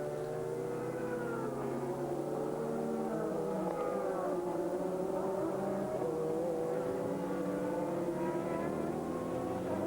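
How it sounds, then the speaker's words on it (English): A race car in the 2000 American Le Mans Series laps the circuit. The engine drones steadily and fairly distantly, with shifting pitch as it passes, under continuous trackside noise and no voices. "And Schiazzarella completes another lap"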